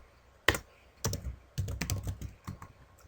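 Keystrokes on a computer keyboard while a command is typed in a Minecraft 1.5.2 server setup, a few quick close clicks, then bursts of rapid clattering typing with short pauses.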